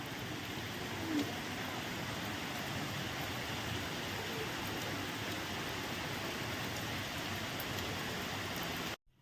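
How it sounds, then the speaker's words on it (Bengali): Heavy rain pours steadily at a home in West Bengal, a dense, even hiss of drops on surfaces lasting throughout without pause, fairly close, before cutting off abruptly at the end. "আমাদের এখানে দেখো ভাই প্রচুর জোর বৃষ্টি হচ্ছে দেখছো খুব জোর পানি হচ্ছে আমাদের এখানে"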